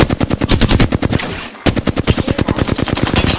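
Apex Legends video game gunfire rattles in loud, rapid automatic bursts with an even, fast rhythm, broken by one brief pause near the middle, with no voices.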